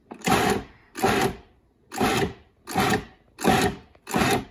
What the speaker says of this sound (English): We're just going to pulse it.